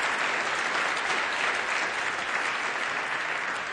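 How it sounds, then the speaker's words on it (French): Sustained audience applause fills the room, a dense steady wash of clapping with no break, celebrating both teams at a youth debate tournament final. "Alors, vous méritez les applaudissements bien nourris."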